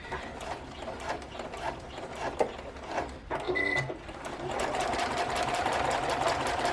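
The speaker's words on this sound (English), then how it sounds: "just stitch across at a 1/2 inch, back stitch at the start and stop" A sewing machine stitches across the edge of a handbag liner, running in short bursts with a rapid mechanical chatter, pausing briefly before a longer steady run.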